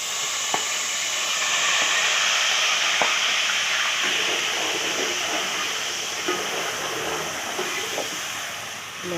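Fenugreek seeds sizzling in hot oil for a beef liver masala, a steady, loud hissing fry with a few faint clicks of seeds popping, no voices over it.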